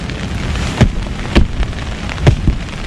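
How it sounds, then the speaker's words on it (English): Rain drumming steadily on a German Flecktarn pup tent on a wet, windy night, a dense constant patter close around the listener with a few heavier drops thumping on the fabric, no voices. "incessant rain"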